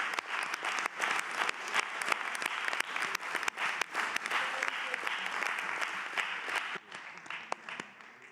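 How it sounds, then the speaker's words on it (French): A municipal council chamber in Aix-en-Provence breaks into applause for city services, with sharp individual claps forming a steady, moderately loud round that tapers off toward the end. "Alors on les applaudit"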